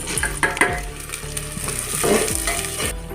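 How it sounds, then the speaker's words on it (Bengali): Garlic, green chilli and chopped onion sizzle in a pan as red lentils are tipped in, with scraping stirs and soft clatter over a steady frying hiss, no voices. "একটু লাল হয়ে এসছে, মসুর ডালগুলোকে ঢেলে দেব।"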